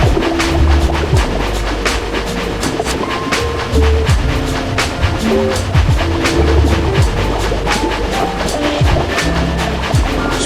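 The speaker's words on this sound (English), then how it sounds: "Spirit Train begins moving towards the temple, traveling along the tunnel" A Spirit Train rolls through a tunnel toward a temple, a dense continuous rumble with rhythmic clacking and sharp metallic ticks, loud and close throughout, with no voices.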